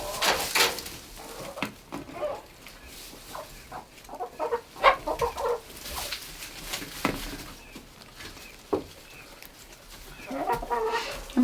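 Backyard hens clucking on and off at close range, with scattered sharp calls over a quiet outdoor setting and no talk.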